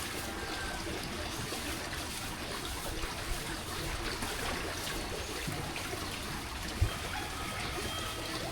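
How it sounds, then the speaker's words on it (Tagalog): A rural stream flows in an even, continuous rush and trickle, close and moderately quiet, with a couple of faint knocks. "dito lang nakuha ng tubig sa sapa"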